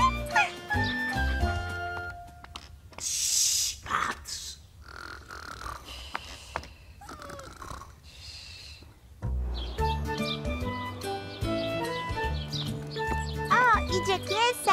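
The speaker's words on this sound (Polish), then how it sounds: "Szczeniaczek wcale się nie bał Kajtusia. Był miły, przyjazny i chciał się bawić." Cartoon puppy barking and yipping in an animated children's show, short barks scattered between bright music and jingling, with voices talking over parts of it.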